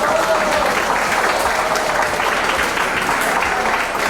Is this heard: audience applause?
yes